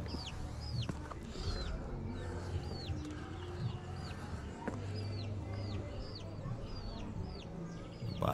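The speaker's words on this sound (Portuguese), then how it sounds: "Galinha no lugar." Chickens cluck repeatedly in short upward calls at a moderate distance, scattered over a quiet outdoor background with low rumble.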